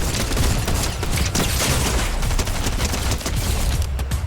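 Dense, continuous gunfire in the Fortnite video game, loud rapid bursts of shots overlapping without pause for several seconds.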